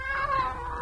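A cat meowing in an old-time radio detective drama, one drawn-out, wavering meow, close and clear.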